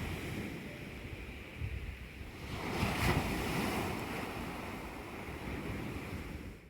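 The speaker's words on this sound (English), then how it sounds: "the sea calm and mellow" Calm sea waves wash gently onto a coastline at sunrise, a soft, low, rolling surge that swells once midway, with wind buffeting the microphone and no voices.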